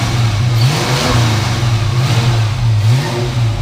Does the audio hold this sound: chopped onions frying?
no